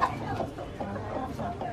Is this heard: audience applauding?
no